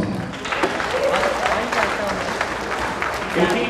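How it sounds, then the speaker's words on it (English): Audience applause at a high school fashion show, a crowd clapping steadily with cheers while voices talk over and through the clapping. "Let's give him a round of applause"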